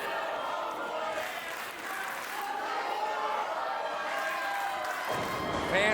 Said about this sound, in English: Fans cheering for the homeboy.